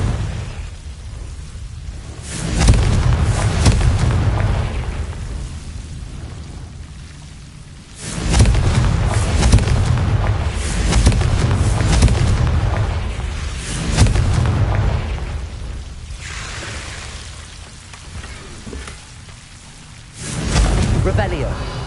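Heavy Confringo blasting-spell explosions in the Hogwarts Legacy video game, several loud booming bursts separated by quieter rumbling gaps, with crackling debris between hits.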